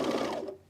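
A sewing machine stitching a seam on a button-down shirt gives a quick burst of whirring needle strokes that stops abruptly after about half a second.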